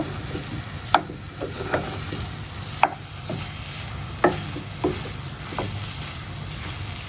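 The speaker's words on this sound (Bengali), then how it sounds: "এখন খুব ভালো করে এভাবে মিক্স করব" Potatoes being mixed in a pan, with a soft sizzle underneath and a spoon knocking and scraping against the metal in sharp, irregular strokes, close by.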